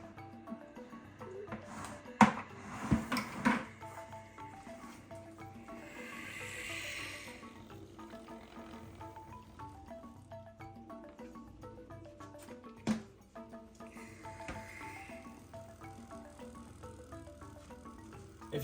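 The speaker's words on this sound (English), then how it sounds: "If you guys can hear that tail rattle," A bull snake in a home reptile collection rattles its tail in a few faint, dry bursts against a quiet background with soft music-like tones, the rattling heard up close and alone without talk.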